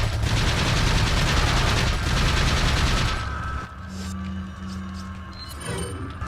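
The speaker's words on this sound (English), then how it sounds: "You would want to use your shotgun for this one." Gunfire during a Resident Evil 4 boss fight, loud, dense bursts of shots for about three seconds, then quieter game ambience with faint tones and small knocks.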